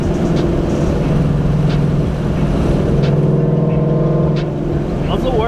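A 2019 Mustang GT with 1 7/8-inch long tube headers and a Solo Performance exhaust rumbles steadily at a deep, loud idle or cruise. A faint voice is heard near the end.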